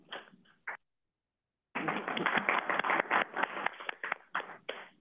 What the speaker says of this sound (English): That was the applause